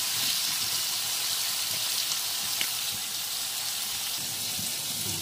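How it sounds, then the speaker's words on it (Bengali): Spiced paneer curry masala frying in oil in a covered pan gives a steady, even hiss and sizzle that stays constant with no voices. "ভালো করে মিশিয়ে আমি ভেজে নেব লাল লাল করে।"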